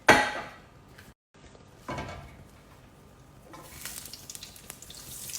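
Oil and butter heat in a cooking pot at the start of a shrimp biryani. A crackling sizzle breaks into short bursts with a brief pause, then returns as a steady, close hiss toward the end.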